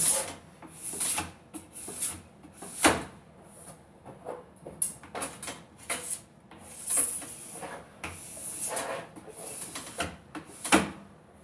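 A sharp scraper is drawn along the base of a skate ski to strip off wax, in repeated rasping strokes of a second or so each, close and alone with brief pauses between.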